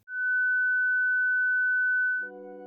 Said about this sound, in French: Et voici un son de 1500 Hz